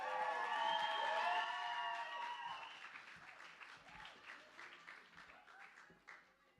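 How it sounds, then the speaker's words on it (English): At The Bedford comedy venue, an audience greets a comedian with loud cheering and whooping at first, then sustained clapping that gradually fades. "Please, will you go crazy and give a stadium-sized round of applause for TANNER WAREHAM!"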